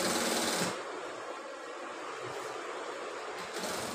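An industrial sewing machine stitches a double seam along the front of a men's shirt, running as a steady, close, continuous buzz with a brief change in pitch near the start and the end.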